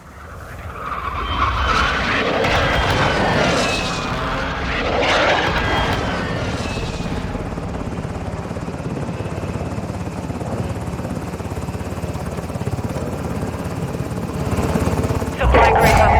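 A video game helicopter arrives with a loud, steady rotor and engine roar that fills the whole stretch, joined by voices near the start.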